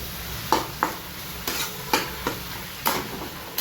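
Vegetables frying in a wok hiss steadily while a utensil scrapes and clinks against the pan in irregular strokes, close and moderately loud.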